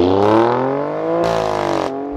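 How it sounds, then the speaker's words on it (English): Exhaust note of a 2019 Alfa Romeo Stelvio Quadrifoglio, loud and close, with a steady rising engine tone that climbs through the rev range and then brightens into a harsher blare near the end, no talking. "I think my favorite overall part of this entire car is that exhaust sound."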